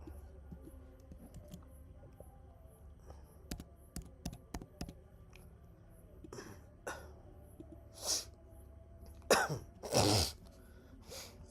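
A person with a cold that has turned feverish coughs and clears their throat in several loud, close bursts toward the end, over earlier light clicks resembling keyboard typing.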